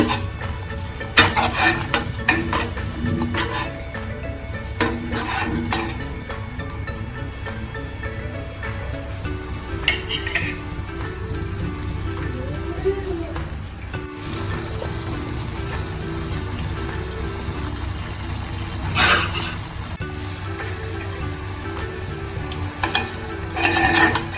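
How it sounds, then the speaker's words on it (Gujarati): Homemade ghee cooking down from cream in a pan, bubbling and crackling steadily throughout while a spoon stirs and clinks against the metal now and then, close up with no voices. "આપણે વચ્ચે વચ્ચે હલાવતા રહેવાનું છે અને આપણું ઘી જે છે તે હવે બનવા લાગ્યું છે"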